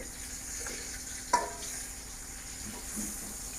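Eggplant fries in oil in a kadai, giving a faint, steady sizzle with one sharp clink of utensil against the pan partway through.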